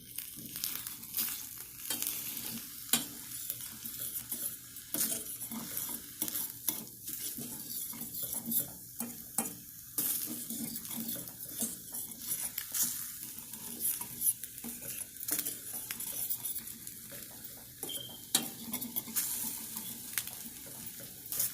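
Eggs fry on a very hot outdoor stove in Ghana, a continuous quiet sizzle under frequent close scraping and clinking of a utensil against the pan.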